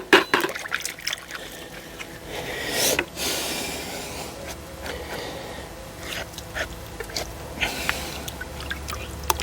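Beekeeping equipment being rinsed with plenty of water, a steady trickling and splashing wash with brief louder gushes, close by and without talk.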